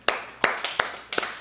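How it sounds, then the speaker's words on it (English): A small seminar audience gives scattered, sparse claps for Dr. Marks, about five or six distinct hand claps spread over a second and a half, close and fairly loud against a quiet room. "So give him a round of applause."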